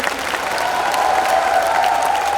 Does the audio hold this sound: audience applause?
yes